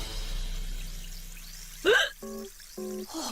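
A child hiccups sharply once, followed by short voiced vocal sounds after quiet background noise.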